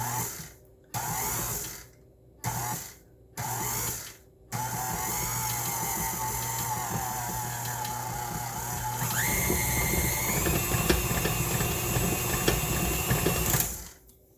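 An electric mixer beats cookie dough with flour in short bursts at first, then runs continuously and loudly, its motor whine rising in pitch before stopping.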